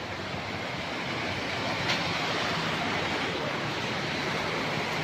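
A waterfall of several streams at Dudhkunda in Bhulbhule, heard as a steady, dense roar of falling water from nearby, unbroken and with no talk.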